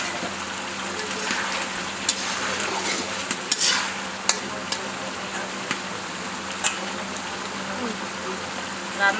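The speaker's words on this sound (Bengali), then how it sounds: "এবার ঢাকনা তুলে নিচ্ছি।" A cooking dish sizzles steadily in a pot after the lid comes off, with scraping stirs and a few sharp clinks of utensil or lid against the pot.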